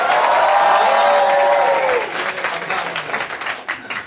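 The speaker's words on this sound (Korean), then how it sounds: "다시 한번 함성과 박수." Loud cheering and clapping rise from a church congregation, with shouting voices at first, then settle into thinner, uneven applause that fades over a few seconds.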